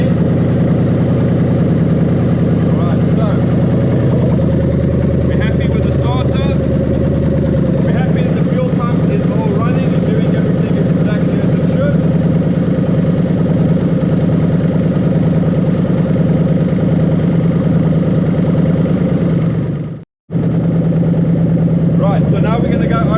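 A 1995-1996 Lexus LS400 with its 1UZ-FE engine and automatic gearbox runs steadily just after start-up, a loud, even idle drone. It cuts out briefly near the end and then resumes.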